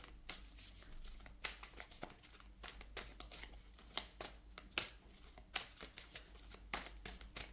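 Oracle cards being handled and shuffled, a close series of soft, rapid riffling and slapping card sounds in uneven bursts, with no talking.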